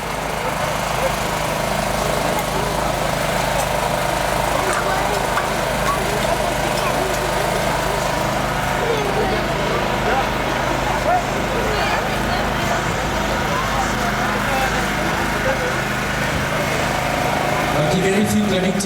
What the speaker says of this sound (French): un premier binôme qui commence à découper le montant avant gauche